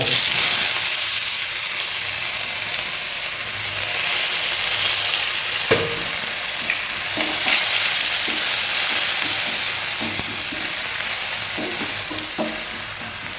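Sliced onions sauté in hot oil for fish biryani, a steady close sizzle with occasional stirring scrapes and clicks running throughout, no voices.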